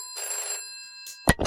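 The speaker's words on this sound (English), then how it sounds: "Oh, the phone's ringing again." An electronic telephone rings in short trilling bursts, a bright warbling tone followed by a couple of sharper clicks, fairly close and clear against quiet.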